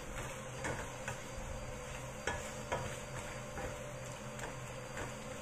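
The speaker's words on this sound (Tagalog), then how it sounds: "haluin lang natin at ready to serve na yan" Pork adobo being stirred in a pan, with soft scraping and light clinks over a faint background sizzle at low volume.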